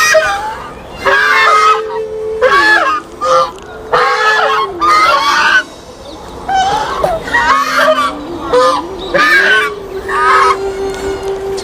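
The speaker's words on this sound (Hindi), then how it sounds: "पालतू बतखें हैं ये।" Pet ducks at a temple honk repeatedly and loudly close up, a series of harsh nasal calls in quick bursts over a steady hum.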